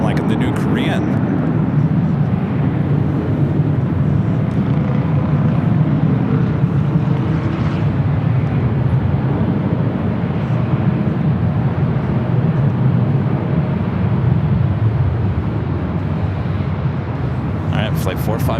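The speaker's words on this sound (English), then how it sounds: "Flight 457 heading back to Frankfurt." Airliner on flight 457 bound for Frankfurt at Los Angeles airport, a sustained broadband engine rumble under faint, intermittent talk.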